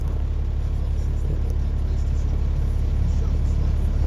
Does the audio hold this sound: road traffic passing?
yes